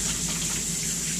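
Steady stream of tap water running into a kitchen sink while hands are washed during home baking, a constant close hiss with no pauses.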